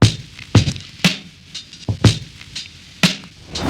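An unprocessed soulful hip-hop drum loop plays alone, with a steady kick and snare pattern of dull, thudding hits about every half second, moderately loud and dry.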